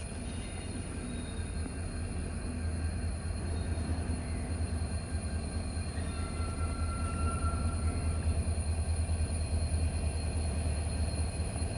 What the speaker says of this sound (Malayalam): ഇവിടെ 3-ാം നമ്പർ പ്ലാറ്റ്ഫോമിലേക്ക് ഒരു ലോക്കോമോട്ടീവ് വരുന്നുണ്ട്, ഡീസൽ ലോക്കോമോട്ടീവ്